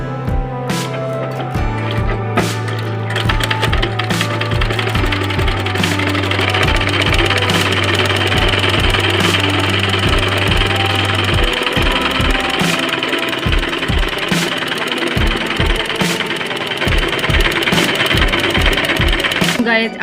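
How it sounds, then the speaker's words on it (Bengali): A sewing machine runs a press stitch on a sleeve, its loud, close motor hum and fast needle knocking continuing for the whole stretch, with a few pauses and restarts. "এইবার একটা আমরা চাপ সেলাই দিয়ে নেব।"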